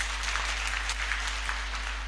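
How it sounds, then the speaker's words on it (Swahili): A church congregation at a Kikuyu Sunday service claps steadily for a couple of seconds, a dense, even patter of many hands over a low electrical hum. "Makofi kwake."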